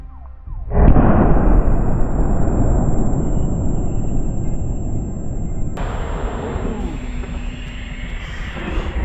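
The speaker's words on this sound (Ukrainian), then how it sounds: "Постріл, друзі, неймовірно. Полетів по російським позиціям." A 2S19 Msta-S 152 mm self-propelled howitzer fires from close range: one sudden, heavy blast that rolls into a long, loud roaring rumble, with a brighter hiss rising later as the echo fades.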